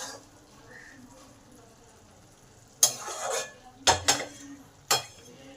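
A pan lid lifted off Bengali-style prawn poppy-seed curry (chingri posto) cooking with potatoes: a quiet low hum, then a scraping rattle and three distinct metallic clanks of the lid and pan, close and fairly loud.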